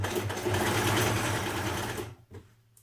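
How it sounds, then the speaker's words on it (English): A sewing machine stitches straight across the middle of a dress being made from a NewLook 6679 pattern, a loud close rapid mechanical whir that runs steadily for about two seconds, then stops abruptly, followed by a brief faint click. "I'm going to sew straight across the middle here."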